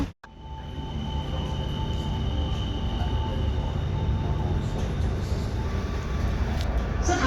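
A metro train in Bangkok rumbles along at speed, a steady loud low roar of wheels and carriage noise with a faint whine, starting with a sharp click before the continuous running sound.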